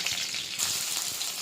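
Cumin seeds sizzle in hot oil in a pan on a stove, a close, steady crackling hiss with no pauses.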